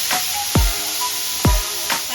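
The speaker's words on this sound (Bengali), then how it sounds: "দিয়ে 5 মিনিট মতো একটু ভেজে নেব" Drained potatoes hit a hot pan and fry, a steady sizzling hiss broken by two sharp clanks of a utensil against the pan, close and moderately loud with no talk.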